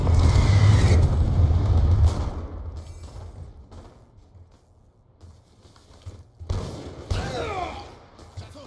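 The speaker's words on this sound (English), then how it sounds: "Friendly Hellstorm missile inbound." Hellstorm missile strike in Call of Duty: Black Ops II, a heavy rumbling blast that fades into quiet, followed by scattered thuds and a smaller burst of impacts near the end.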